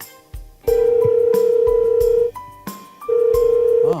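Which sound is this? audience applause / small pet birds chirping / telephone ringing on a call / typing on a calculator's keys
telephone ringing on a call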